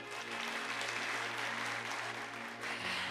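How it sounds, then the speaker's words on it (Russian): Dense, continuous applause fills a large hall at a national youth customs forum, steady and fairly loud, with a faint tonal hum running beneath the clapping. "Еще раз аплодисменты"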